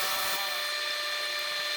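Power drill boring into a large piece of wood while hollowing out a pine cone bowl, a steady high whine after a brief initial bite, close and continuous.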